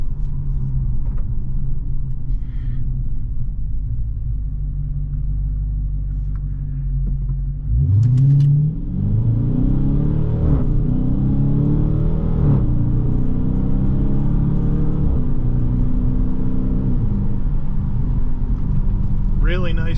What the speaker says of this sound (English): Really nice pickup, this Hemi V8, and the torque flight really smooth